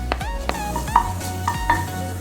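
Cumin seeds hit hot oil in a frying pan, giving a close, bright sizzle with several sharp metallic clinks and scrapes of a spoon against the pan, and no talking.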